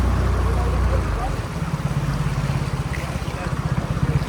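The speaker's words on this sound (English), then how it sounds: "come up through these rapids with the outboard down" An outboard motor drones steadily with a low pulsing throb, while water rushes and churns around the hull as the boat pushes upstream through rapids at Stones Crossing, Cape York.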